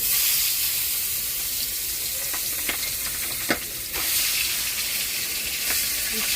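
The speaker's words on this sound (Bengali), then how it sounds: "আর একটা পিস আছে মাছ ভাজা" A piece of fish sizzles in hot oil with a continuous close hiss, broken by a few sharp pops and spatters and a brief scrape partway through, with no talking.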